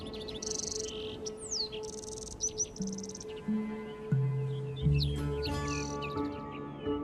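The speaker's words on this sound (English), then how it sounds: "Each year, migratory birds fly hundreds, even thousands of miles to raise their young here." Migratory birds in a desert nesting area give repeated high chirps and whistles, some quite clear, over a faint steady hum and low tones.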